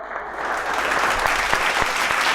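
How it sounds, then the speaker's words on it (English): Conference applause for eminent speakers at a banking conclave in Odisha, a full hall clapping together in a dense, steady wash that builds quickly after a quiet start and holds strong. "Can we have a huge round of applause for all of them?"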